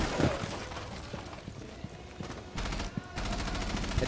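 Gunfire in a shooter video game: a sharp crack, then a scattered volley of quick shots and bursts of rapid fire, some with a glassy rattle, moderately loud with background game noise.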